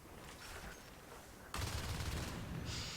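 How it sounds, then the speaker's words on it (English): A heavy machine gun fires at skulks in Natural Selection 2, a dense burst of rapid shots that bursts in halfway through after a quieter stretch, sustained and loud until the end. "You can see that the HMG just like mows down the poor skulks."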